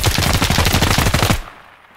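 Rapid automatic gunfire from the tactical shooter game Ground Branch, a loud, close burst of evenly spaced shots lasting over a second before cutting off into quiet.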